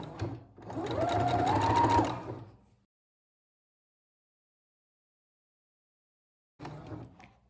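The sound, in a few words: sewing machine stitching bias binding on bunting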